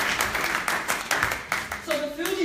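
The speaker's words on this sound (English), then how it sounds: "Please give yourselves a round of applause." An audience applauds with dense, irregular clapping that comes in short loud bursts and fades toward the end, while a voice speaks over it.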